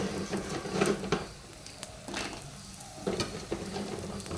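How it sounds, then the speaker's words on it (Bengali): Gohona bori lentil dumplings fry in hot oil with onion, making a soft, continuous sizzle broken by occasional knocks and scrapes of stirring. "আর গয়না বড়ি কটা ভেজে নেব"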